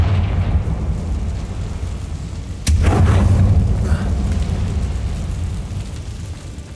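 The Confringo spell in Hogwarts Legacy goes off in a single sudden boom partway through, followed by a crackling rush of debris that decays slowly over a low steady background rumble.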